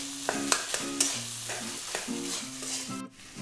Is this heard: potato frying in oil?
yes